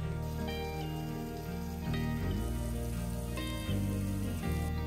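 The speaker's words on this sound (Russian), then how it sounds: "Теперь жарим грибы до готовности" Oil sizzles and crackles steadily in a pan as mushrooms fry, with gentle background music playing throughout.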